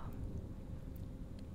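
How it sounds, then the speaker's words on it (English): Low, steady rumble of a storm with a continuous wash of rain noise, dull and even throughout. "So we've got a pretty good storm going on at the moment"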